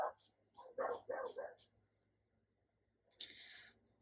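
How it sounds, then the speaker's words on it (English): Dogs barking outdoors, heard through open windows during a craft session: a quick run of several sharp barks at moderate distance, then a pause and a brief higher yelp or whine, with no speech over it. "Dogs are barking, windows are open."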